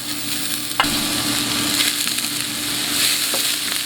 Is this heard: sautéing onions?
yes